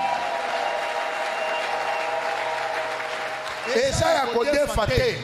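Church congregation clapping and cheering in worship at an anniversary service, a broad wash of applause with music and voices throughout, swelling louder near the end with rhythmic clapping.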